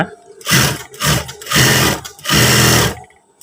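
Sewing machine stitching the elbow corner of PDL-style trousers with a back pocket, running in four loud, close bursts with brief pauses between, and no talking.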